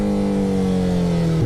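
A motorcycle engine holds a steady throttle at about 20 miles an hour, producing a loud, even droning hum with a constant pitch that dips slightly at the very end.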